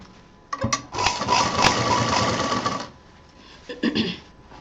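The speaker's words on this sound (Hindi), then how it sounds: "जिप को भी सिल देंगे।" A sewing machine stitches a zip onto a handbag, with one steady mechanical run of about two seconds, then a short second burst, close and fairly loud.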